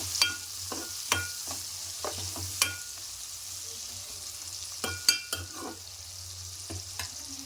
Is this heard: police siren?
no